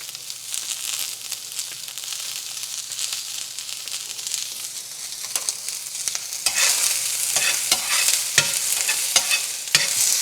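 Onion, garlic and ginger frying in oil, a continuous sizzle that grows louder midway as a utensil stirs the pan with frequent scraping knocks, up close and without voices.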